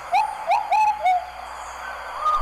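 Ruddy Pigeon (Patagioenas subvinacea) calling at San Cipriano: a clear, close series of four rhythmic cooing notes, followed by quieter background birdsong.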